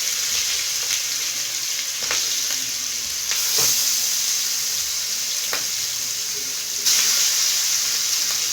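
Chicken for grilled lemon chicken hits a hot oiled pan with a loud, steady sizzle that surges twice as more pieces go in, with a few light clicks near at hand.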